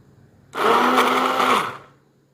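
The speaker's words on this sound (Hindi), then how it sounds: "तो हम इसे अच्छे तरीके से जो है वो बीट कर लेंगे।" A kitchen blender beating cooked, softened tomato and onion, switched on abruptly for about a second of loud steady whirring with a held motor tone, then winding down and fading out.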